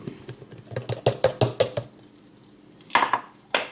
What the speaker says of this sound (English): I put my spatula in the sink